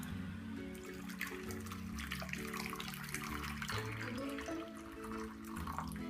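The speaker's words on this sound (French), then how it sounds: "je verse maintenant à peu près 2 cm d'eau bouillante dans le petit moule." Boiling water poured into a small mould for a bain-marie while making a bistro-style vanilla custard, a faint, steady gurgling pour with bubbling splashes throughout.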